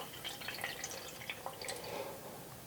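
Water trickles and drips into an empty pop can while it is filled to about 200 milliliters, a soft continuous pouring that splashes faintly in the metal can.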